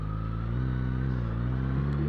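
A Suzuki Bandit motorcycle with about 100,000 km on it rides a rough dirt road, its engine holding a steady, close, throbbing drone throughout.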